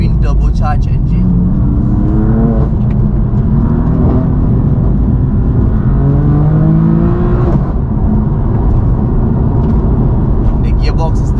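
A BMW M4 DTM Champion Edition's S55 twin-turbocharged engine drones and climbs through revs from inside the car, loud and steady, with rising and falling pitch sweeps and a voice talking over it.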